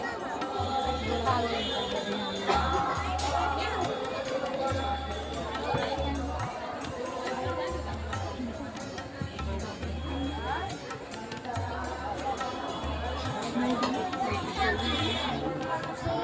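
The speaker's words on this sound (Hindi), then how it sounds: "श्रद्धालुओं की भीड़ भी लगी हुई है" A dense crowd of devotees at a Durga Puja pandal in Ranchi, continuous chatter and babble from many voices with children's calls, steady and close, with a low repeating hum beneath.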